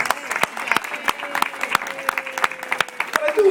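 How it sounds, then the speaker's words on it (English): An audience claps in a room, a dense patter of close, sharp hand claps that keeps going throughout, while a voice speaks over it. "Let's have a round of applause."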